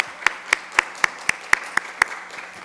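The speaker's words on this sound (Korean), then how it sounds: "우리 석수망 지휘자분 다시 한번 박수로 축복합니다" Crisp, evenly spaced claps ring out in a church, about ten sharp strikes at a brisk steady pace over a quiet room hum.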